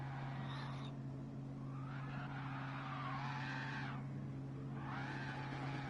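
Gr.3 race cars launch from the start at the Nurburgring GP circuit in a racing video game, with faint engine whines and tire squeals rising and falling over a constant low hum.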